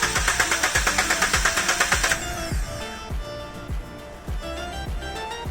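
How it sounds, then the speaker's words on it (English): A Suzuki Baleno cranks in a fast, even starter rhythm with its fuel pump relay disconnected, then the cranking stops and a slower uneven churning follows, loud and close. "Then connect the negative terminal and start the engine."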